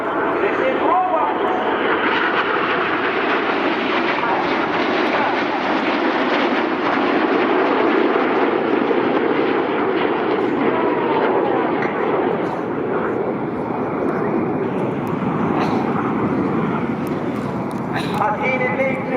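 Red Arrows display jets rolling to the outside during the 60th anniversary display at RIAT 2024, a loud continuous roar of jet engines with a commentator talking over it throughout.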